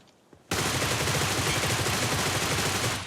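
Sustained automatic gunfire in PUBG Mobile erupts after a quiet moment and continues as a dense, rapid, loud stream of shots, tapering slightly at the end.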